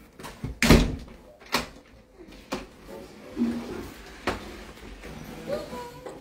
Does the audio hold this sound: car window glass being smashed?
no